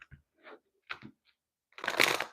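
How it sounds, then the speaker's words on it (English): Tarot cards being shuffled by hand: a few soft riffles and taps, then a louder, denser burst of card flutter near the end, close and alone with no talk. "One more shuffle."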